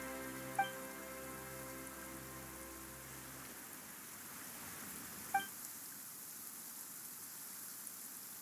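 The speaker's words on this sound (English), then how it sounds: "Why is it raining all of a sudden?" Steady rain falling in a video game scene, a soft even hiss that continues on its own after a low musical tone fades out, with a couple of faint chime-like glints.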